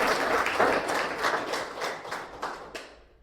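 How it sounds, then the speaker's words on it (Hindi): Loud applause from a network marketing seminar audience, a dense burst of clapping that gradually thins and fades away over a few seconds. "जोरदार तालियां, दिल जोर से ताली बजाने के साथियों"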